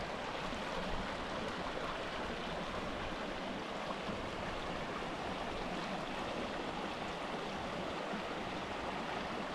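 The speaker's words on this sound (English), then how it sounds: "Gorgeous little creek, lovely flow." La Verkin Creek flows steadily in Zion National Park, Utah, a continuous close rushing and burbling with no pauses or voices.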